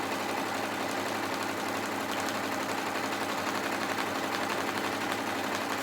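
An embroidery sewing machine stitches a design onto a cosmetic bag, giving a steady, fairly quiet mechanical whir with fast, even stitching pulses and no talk.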